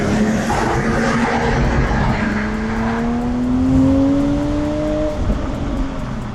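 A BMW M440i convertible with the B58 engine accelerates hard through a tunnel after a downshift, the loud rising engine note sweeping upward and echoing off the tunnel walls, with no talking.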